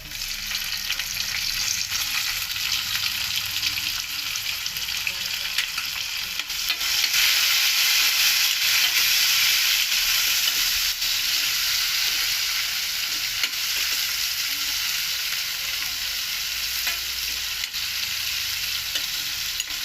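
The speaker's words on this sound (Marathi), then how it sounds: "लसूण चांगला लालसर होऊन द्यायचा" Garlic fries in oil until reddish for a dal and potato sabji tempering, giving a loud, steady, close sizzle with a dense hiss that swells slightly midway and holds without speech.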